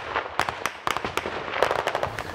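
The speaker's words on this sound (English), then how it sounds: "you can hear some of the explosions in the distance and not very far away from us" Explosions of trench warfare near Donetsk, a rapid irregular series of sharp cracks and booms, some distant and some closer, crackling like firecrackers in open air.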